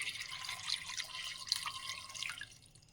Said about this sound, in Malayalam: ഇനി ഇതിലേക്ക് കുറച്ച് വെള്ളം ഒഴിച്ചു കൊടുക്കും.